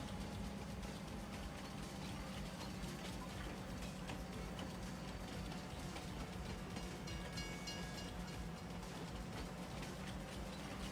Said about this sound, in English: We had a rideable train still.